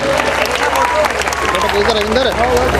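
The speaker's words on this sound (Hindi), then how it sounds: "ताली बजाइए" Audience at a Mata Bhagwati jagran claps steadily and loudly, a continuous patter under a prominent amplified voice that keeps going the whole time.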